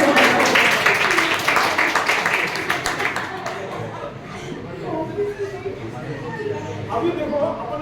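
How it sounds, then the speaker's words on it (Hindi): Audience at a training workshop on innovation claps loudly at first, the applause thinning and fading over several seconds into scattered claps and murmured chatter from the room. "thank you very much thank you इनके तालियां होंगी"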